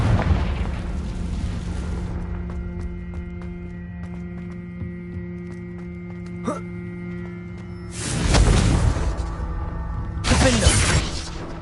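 Loud booming bursts from a Confringo fire spell in a Hogwarts video game, two heavy explosions later in the stretch over ongoing game music and ambience.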